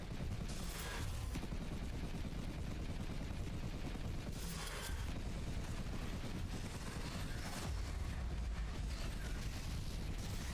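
Rapid sustained gunfire in the video game Luna Abyss, a dense, constant roar of shooting broken by a few louder bursts, loud and continuous across the whole stretch.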